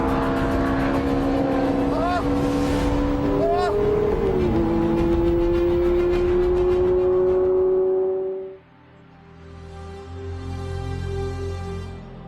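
A Ferrari 430 with its 4.3-litre V8 roars loudly at high revs, the exhaust pitch climbing through gear changes before the engine note drops away sharply and settles into a lower, quieter drone, with a voice talking over it.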